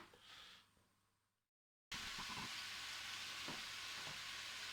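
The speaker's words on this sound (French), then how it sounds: "on va bien faire rôtir dans l'huile d'olive notre haché" Ground meat frying in olive oil in a pan: a loud, steady broadband sizzle after a short gap, with occasional pops and spatters, close up and continuous without talk.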